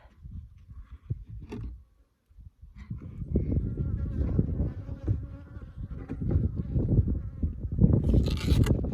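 Honeybees from a small hive under a shed floor hum in a close, dense buzz that swells after a brief lull and grows louder toward the end.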